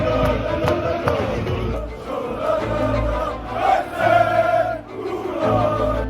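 A large crowd of European football fans on the move, a dense continuous roar of voices and shuffling with occasional louder shouts rising and falling, close and enveloping throughout.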